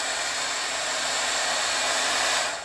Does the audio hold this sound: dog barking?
no